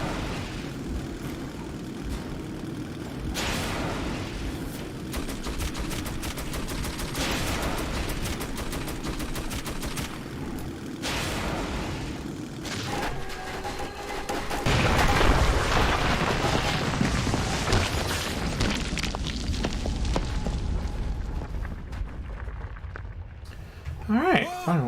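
Sustained machine-gun fire and scattered blasts in Metro 2033: close, loud bursts that come in waves, build to a heavier barrage near the end, and run under raised voices.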